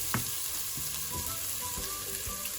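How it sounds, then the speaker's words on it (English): Onions frying in a pan for a chicken and mushroom kebab curry, a soft steady sizzle with a few scraping stirs, heard alone without talk. "Now while the onions are cooking"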